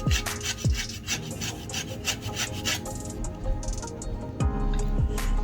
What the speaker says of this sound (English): Grate in some lemon zest